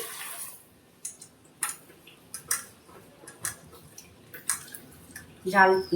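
Lentils being rinsed in water for a Bengali home-cooked meal, with scattered clicks, small splashes and taps of grains and water in a bowl, close and fairly quiet, ending in a brief louder burst of pouring water.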